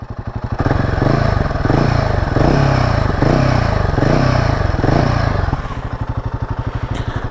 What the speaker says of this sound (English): The exhaust sound is pretty fruity.